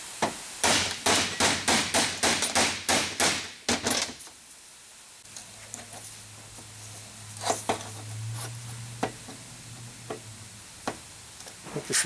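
A metal part stuck on a vehicle's actuator assembly is hammered loose, with a quick run of loud, close, ringing blows followed by scattered lighter knocks and clinks over a low hum.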